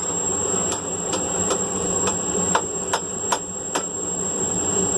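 Hammer blows on a hot steel bar being bent to a hard 90-degree angle at a forge, about eight sharp metallic strikes in a steady rhythm, ringing clearly over a constant high hiss and low background rumble.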